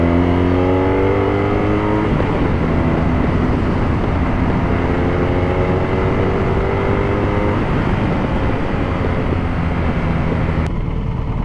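A 2018 BMW R nineT Cafe Racer motorcycle being ridden, its engine droning steadily under heavy wind rush, loud and close with gear shifts audible as pitch steps early on and no talking.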